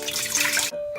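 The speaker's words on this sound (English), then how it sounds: "Add 2 cups of water" Water poured into a cooking pot as the base for giant lollipop syrup, a bright gushing splash that runs steadily, then cuts off abruptly and leaves a faint tonal hum.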